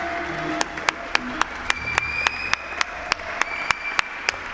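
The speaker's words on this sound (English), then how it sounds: "I feel like he deserves a round of applause." Audience applause at the Legacy Awards 2020 ceremony: a steady wash of clapping punctuated by sharp, regularly spaced claps, with faint tonal sounds running underneath.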